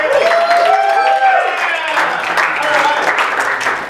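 Audience clapping at a live group game event, loud and steady through the whole stretch, with whoops or voices mixed into it.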